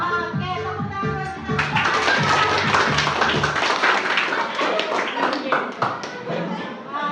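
Students clapping together in a classroom, a patterned rhythmic clap with taps and beats, a teacher's voice talking over the start before the clapping swells loud and busy.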